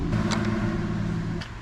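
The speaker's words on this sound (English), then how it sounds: "So let me go hit full throttle." A boat engine being rebuilt is opened up to full throttle, giving a steady, loud mid-pitched engine drone that holds for the whole moment with no speech.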